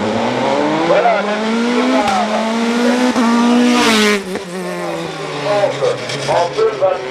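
Alara race car at the Col Saint Pierre hillclimb, engine revving hard through gear changes as it passes close by, with a French commentator talking over it.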